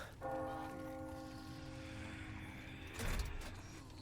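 Church bell tolling in the video game Resident Evil 4 Remake, a single deep resonant strike ringing out and slowly decaying, followed by a brief louder clunk near the end.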